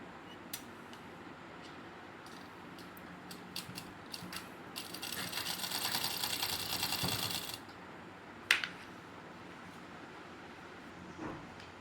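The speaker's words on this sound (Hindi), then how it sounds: "तो अब हम इसकी राउंड में सिलाई लगाएंगे" A sewing machine stitches a kurta in a steady run of rapid mechanical whirring lasting a few seconds, preceded by scattered clicks and followed by a sharp knock, close and moderately loud.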